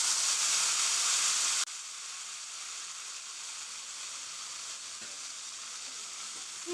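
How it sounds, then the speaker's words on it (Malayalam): Chopped pineapple sizzles steadily in hot ghee, a loud bright hiss that drops abruptly to a quieter, even frying crackle and carries on alone with a faint clink near the end. "ഇനി ഇതിലേക്ക് ഞാൻ 1 കപ്പ് പൈനാപ്പിൾ ചോപ്പ് ചെയ്തത് ഇടുകയാണ്."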